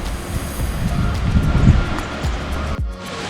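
Small waterfall in the tour waiting area beside the cave house at Jenolan Caves, a steady broadband rush of falling water heard close, with faint low thumps and a brief sharper knock near the end.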